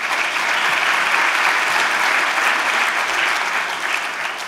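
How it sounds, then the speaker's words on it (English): An audience at a women's leadership event applauds warmly for Jessica Alupo, a loud, dense and sustained round of clapping with no break. "Can we have a warm round of applause for Jessica Alupo?"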